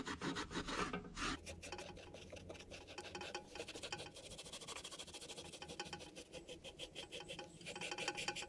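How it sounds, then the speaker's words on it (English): Four-ounce steel wool scrubs across a painted bluegill replica fish mount, giving a continuous scratchy rasping rub in quick back-and-forth strokes, close but fairly quiet, with no voices. "Then I go over the entire fish with 4-ounce steel wool, bringing out the detail."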